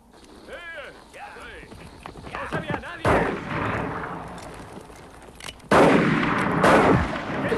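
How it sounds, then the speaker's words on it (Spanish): Two loud, sharp gunshots ring out, a few seconds apart, amid hoofbeats and shouting voices. "Nos han vuelto a disparar."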